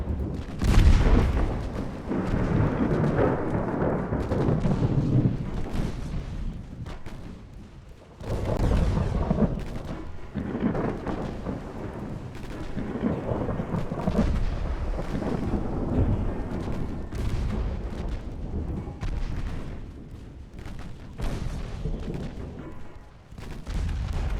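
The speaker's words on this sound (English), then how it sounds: "Those 4-inch guns are accurate." Naval gunfire from 4-inch guns in a 1913-era Ultimate Admiral Dreadnoughts sea battle, a dense, continuous barrage of deep booms and rumbling shots over steady wind-like roar, loud throughout with no talking.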